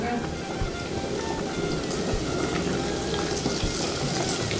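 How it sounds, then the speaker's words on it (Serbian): Doughnuts frying in hot oil, a steady dense sizzle and crackle that holds at an even, moderate level throughout. "Ovdje nam je ulje, koliko vidim vrelo. I ide prva na prženje."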